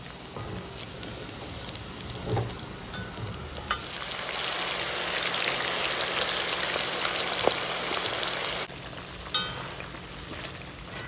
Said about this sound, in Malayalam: എപ്പോഴും നമ്മൾ വറുത്ത് കോരുമ്പം തീ കൂട്ടി വെച്ച് വേണം വറുത്ത് കോരാൻ